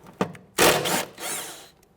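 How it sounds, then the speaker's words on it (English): A socket wrench works a 10mm bolt holding an ABS wire bracket on a Kia Sorento, giving a brief tap followed by a couple of close grinding, ratcheting bursts that fade toward the end. "Using a 10mm socket, loosen and remove this bolt holding the ABS wire to the body."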